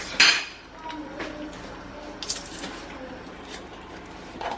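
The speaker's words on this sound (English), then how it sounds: "So I take this press, I'm gonna scrape some of that garlic in there." Garlic squeezed through a hand garlic press and scraped out into a dish for a plant-based meal, with close metallic clinks and scraping knocks, one sharp knock at the start, under faint kitchen background.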